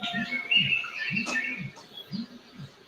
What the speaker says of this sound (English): Are these birds? What are they? Here are the birds.